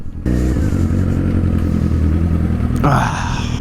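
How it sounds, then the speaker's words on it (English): Suzuki Gixxer motorcycle engine running close and loud, a steady rumbling idle that begins abruptly and then rises into a sharp rev near the end. "This is a good sounding bike."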